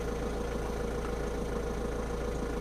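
A 2015 Ford Focus engine runs at idle, a steady close mechanical hum and drone with an even vibration that holds at one level throughout, and no one speaks.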